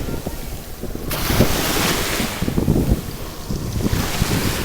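Ocean surf washing against the Connecticut shore up north, a steady rolling wash with swells of breaking water, mixed with buffeting wind noise on the microphone and no talking.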